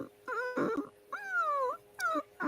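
A human voice imitates a dog's whimper as a vocal warm-up, giving three rising and falling high whines with short gaps, close and clear with no other sound.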